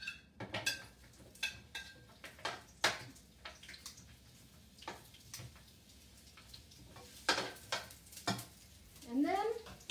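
Half a sliced onion frying in a pan with beef short ribs to follow, soft sizzling under frequent sharp ticks and scrapes of stirring, close and fairly quiet.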